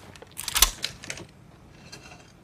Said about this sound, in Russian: Это щелчок моего Вальтера.